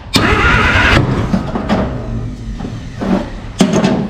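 A 1951 Plymouth engine, previously locked up, cranks over on a 12-volt coil with the generator belt off: loud, close, rough bursts of starter churning that stop and restart several times without catching.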